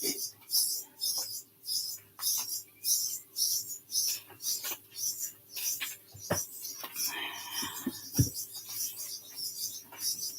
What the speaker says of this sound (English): Oh, the birds are loud.